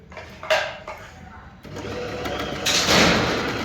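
Usha Janome Stella Dream Stitch sewing machine running in short stitching bursts, close and fairly loud, with a person speaking between and over the runs of the machine.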